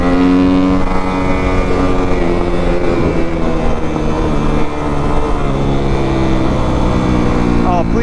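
A Kawasaki KX250F four-stroke dirt bike engine revs hard while riding, a loud, sustained buzzing roar with shifting pitch as the throttle opens and closes, with some speech mixed in.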